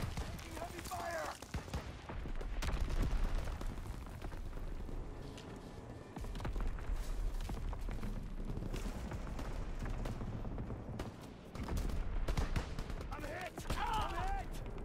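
Heavy gunfire during a Call of Duty WWII match, with bursts of shots and booming blasts spread across the scene and in-game radio voices talking in between.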